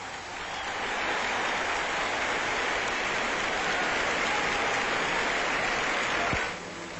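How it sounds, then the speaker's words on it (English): Crowd applause in an Olympic stadium in 1948 as a marathon runner enters to circle the track before the finish, a steady dense wash of clapping that swells in and holds loud before cutting off. "A burst of applause greets him in the stadium"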